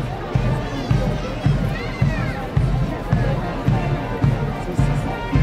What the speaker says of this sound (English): here we have the full marching band, everybody